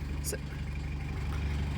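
A fishing boat's engine, recently repaired after a fault, runs with a steady low droning hum while a person talks over it outdoors.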